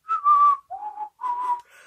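Whistled melody from a song, three clear sustained whistled notes in a short phrase, alone and close.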